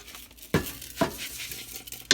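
Washed rice being stirred in a pot of vegetable pilau, with scraping spoon strokes against the pot at a slow, uneven rhythm over a soft sizzle, close and fairly quiet.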